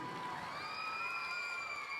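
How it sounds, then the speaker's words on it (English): Crowd applause and cheering for three fancy shawl dancers at the 2015 Youth Black Hills Pow-wow: a steady, moderately distant wash of clapping and shouts, with sustained high trilling or whistling tones riding over it throughout. "Round of applause for our three fancy shawl dancers."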